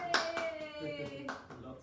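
A small group clapping at a child's fifth birthday party at home, a few sharp claps up close with voices singing and speaking over them.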